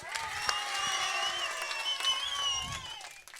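Clapping from women in the audience at a Tamil comedy speech, a brief stretch of applause under a held musical tone.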